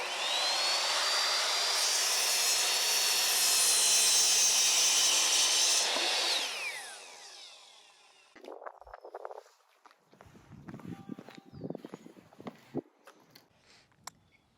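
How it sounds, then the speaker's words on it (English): A power saw cuts a wooden board in half while a raised garden bed is built, roaring loudly and steadily for about six seconds before winding down, followed by scattered knocks and handling clatter from the lumber. "And now this one we're going to cut right in half at 4 feet."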